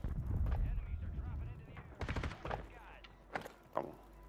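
Bursts of automatic gunfire in a first-person shooter: several sharp cracks and short rapid volleys at uneven intervals, fairly close, with players talking over the shots.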